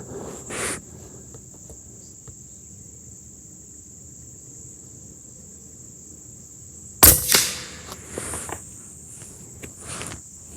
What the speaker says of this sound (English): So I'm gonna shoot another one.